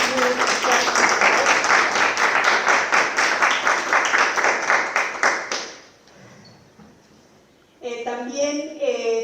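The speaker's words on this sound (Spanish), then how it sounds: "Un aplauso muy especial." Audience applause for two actresses at a women's theatre conversation event in Morelia, Michoacán: dense, steady clapping for about six seconds that breaks off, followed by a pause and then a voice speaking.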